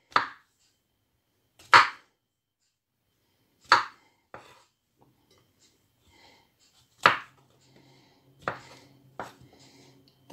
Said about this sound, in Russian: Буду резать крупно.